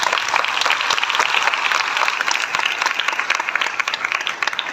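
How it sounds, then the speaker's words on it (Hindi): A church congregation breaks into loud, sustained applause for Jesus, dense clapping that holds steady from start to finish with a faint crowd murmur underneath. "तालियां मांगेंगे।"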